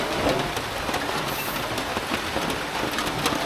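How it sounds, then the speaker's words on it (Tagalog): Steady rain patters on a surface close by, with scattered louder drips over a constant wash of noise. "Ano talaga yan? Umuulan."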